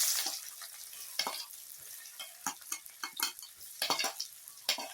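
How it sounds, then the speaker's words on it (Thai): A seasoning paste of coriander root, garlic, pepper and shallot is stir-fried in a pan, with a soft sizzle under repeated quick scraping and clinking strokes of a spatula. "ผัดสีเกลือก่อนนะคะ"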